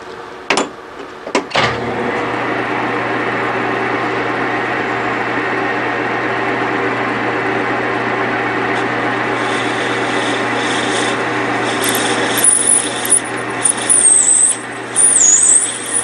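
A lathe parts off plastic stock, a steady loud grinding rasp of the cutting tool with a low motor hum, preceded by a few sharp knocks and ending with higher squealing bursts.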